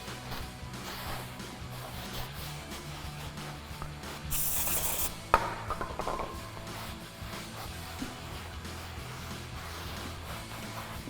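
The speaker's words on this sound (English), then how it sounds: "we're just gonna take some brake clean and clean off the oil and residue off the rotor" Brake cleaner hisses from a can in one short burst onto a cloth, followed by scuffing, rubbing strokes as the cloth wipes both sides of a 2019–2024 Silverado 1500 brake rotor, close up.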